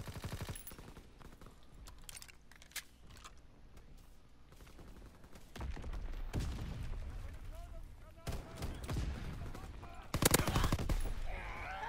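Incendiary-round gunfire in a WWII video game, bursts of rapid automatic fire and heavier blasts that grow denser and louder toward the end, with a voice talking faintly underneath.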